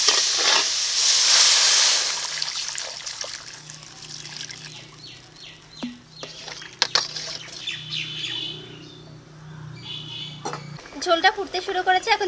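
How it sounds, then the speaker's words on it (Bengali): Water is poured into a hot pan of fried raw mango. A loud burst of hissing steam in the first two seconds settles into quieter bubbling and crackling, with occasional squeaky chirps and clinks. "আমটাকে ভেজে নিয়েছি এখন জল দিয়ে দিচ্ছি"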